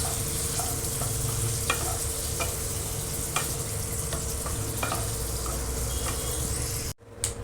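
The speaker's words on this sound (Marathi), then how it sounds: "परतून घ्यायचं थोडं." Onions sautéing in a pan for paneer do pyaza, a steady close sizzle broken by regular scrapes and clacks of a spoon stirring, with no talk, cutting off abruptly near the end.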